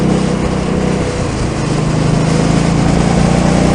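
An Indian Scout motorcycle engine pulls with the throttle rolled on, a loud, continuous rumbling drone with a slight dip partway through, heard close up from the rider's position.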